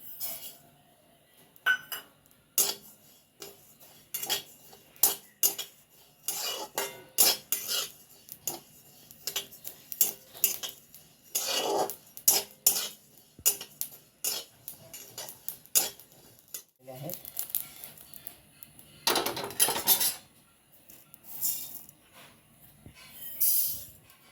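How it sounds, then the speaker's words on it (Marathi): Cumin seeds dry-roasting in a pan, with irregular metallic scrapes and clinks of a spatula stirring against the pan, sparse bursts separated by quiet gaps, close and without speech. "आता आपण जिरे भाजून घेऊयात"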